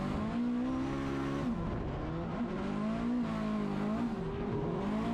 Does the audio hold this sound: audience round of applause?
no